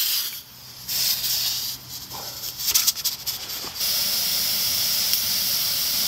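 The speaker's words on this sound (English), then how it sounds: "the steam coming out of that pressure release valve on top" Steam hisses from the pressure release valve on top of a Kazan Afghan pressure cooker cooking lamb stew over a campfire outdoors, a loud steady rushing jet that breaks into sputters midway before resuming a constant hiss.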